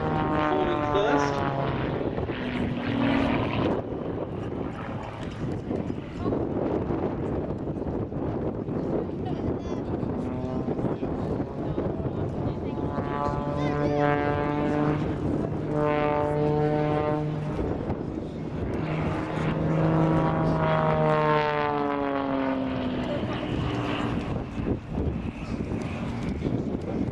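An aerobatic aircraft, an SBach 300 or Extreme Air XA41, performing at the Duxford air show, its propeller engine droning and rising and falling in pitch as it manoeuvres overhead, heard under a commentator's voice and wind on the microphone.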